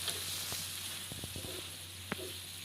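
Fish frying in a pan with coriander and curry leaves added near the end of cooking: a steady, quiet oily sizzle and hiss, broken by a few faint pops and spits.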